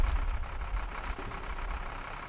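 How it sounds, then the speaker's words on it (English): A Mercedes Citaro Facelift city bus engine in the OMSI 2 simulator idles at high revs, a steady loud droning hum with a slight pulsing throb, close and continuous with no talking. "It's idling at a pretty high RPM."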